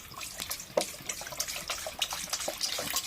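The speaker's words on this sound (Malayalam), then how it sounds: "അപ്പോൾ അങ്ങനത്തുള്ള ഗോമൂത്രം ഒരു പാത്രത്തിലേക്ക് നമ്മൾ ഒഴിക്കുക." Cow urine is poured from a bottle into a vessel, a close, continuous splashing trickle with uneven gurgles lasting a few seconds.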